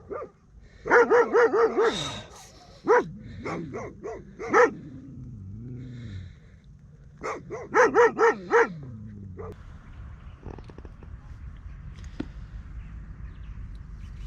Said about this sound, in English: There are dogs just outside the tent and pissing me off when I want to sleep